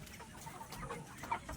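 Black Australorp chickens around 75 days old, with roosters near 2.5 kg, give soft, brief clucks close by in a quiet coop.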